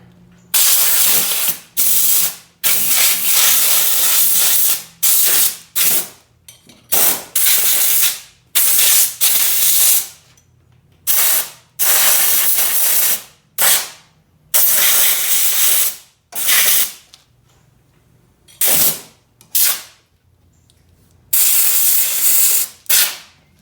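Compressed air blasts in repeated bursts of a few seconds each, loud and close, with short quiet gaps between them, used to blow debris off a worn walk-behind lawn mower during maintenance.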